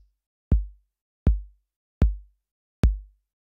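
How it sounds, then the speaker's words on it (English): A synthesized 808 bass drum thumps four times at an even pace, each hit a short booming tone as its tone knob is turned, sounding clean and alone. "So if you moved that tone knob on the bass drum, you would get a series of sounds that would sound like this."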